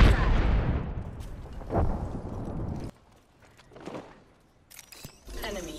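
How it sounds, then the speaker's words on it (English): A frag grenade in Rainbow Six Siege goes off close and loud at the start, with a heavy rumbling decay, then another burst rolls in about a second later. Quieter game sounds and sharp clicks follow, and a second loud blast comes near the end. "Frag out. Throwing frag."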